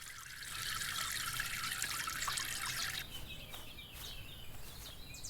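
A watering can pours water in the Everdream Village video game, a steady bright trickle for about three seconds that then drops to a softer dribble, with faint bird calls in the background.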